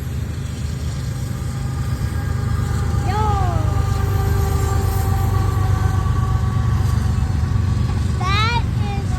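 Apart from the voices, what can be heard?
loud train locomotive engine, Turbo DPU, at S curve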